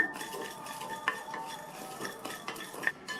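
Spices are stirred and scraped around a dry pan, a soft continuous rustle with occasional metallic clinks of a spoon against the pan.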